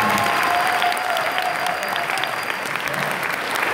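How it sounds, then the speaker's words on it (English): A convention audience applauds at a Tokyo in Tulsa anime event at the Cox Business Center in Oklahoma. Dense, sustained clapping fills a large hall, with a faint crowd murmur mixed in throughout. "So give yourself a round of applause for becoming"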